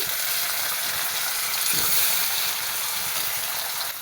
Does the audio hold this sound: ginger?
yes